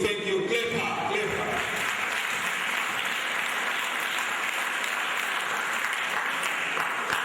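Audience clapping at a graduation ceremony, an even, sustained patter of many hands continuing steadily, with a brief voice near the start.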